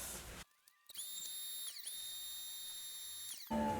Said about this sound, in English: we're gonna inflate it a bit more so you can see it